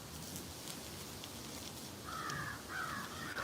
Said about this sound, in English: oh, there's some crows I hear.